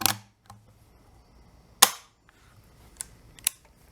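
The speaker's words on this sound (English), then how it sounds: "I'm going to dry fire it." Sharp mechanical clicks from dry firing a hunting rifle, a few isolated close snaps of the action and trigger spread across a quiet room.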